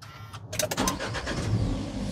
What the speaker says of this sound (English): Starts like a brand new car.